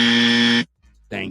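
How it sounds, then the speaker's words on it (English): A loud, harsh dummy buzzer blares for over half a second, cuts off, and then a second short blast starts. "can we also get us her her murderer, the dummy buzzer, please?"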